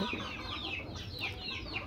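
Malaysian serama chickens, a tiny bantam breed, cluck softly in a steady series of short calls over a low background hum, close by and continuous.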